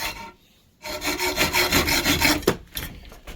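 A hacksaw cutting through a workpiece with steady back-and-forth rasping strokes, close and clear, starting after a brief quiet pause and ending with a few lighter strokes, no talking.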